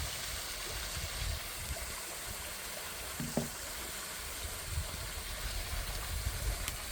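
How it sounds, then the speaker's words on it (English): Steady rushing of water from an underground waterfall near Mammoth Cave, a continuous broadband hiss heard from a short distance, with a faint thump partway through. "Waterfall coming out from underground, which is what created Mammoth Cave."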